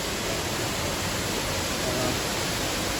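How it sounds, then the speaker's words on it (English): Greeter Falls, a waterfall in South Cumberland State Park, pours with a steady, dense roar like broad rushing noise, unbroken and close for the whole stretch. "That is Greeter Falls."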